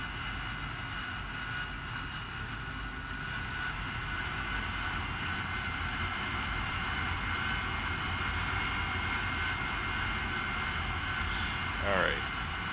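AV-8B Harrier jet engine in DCS, a steady loud whine and broad rumble as the aircraft taxis toward the runway, continuous throughout with a brief swell near the end.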